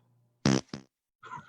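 Two quick, loud fart blasts are followed after a short pause by a softer, rumbling third one against silence.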